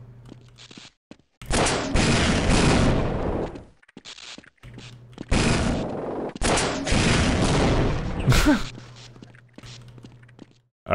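Rockets launched at enemies in the video game Half-Life, loud whooshing blasts and explosive bursts in several bouts separated by brief quiet gaps and footsteps.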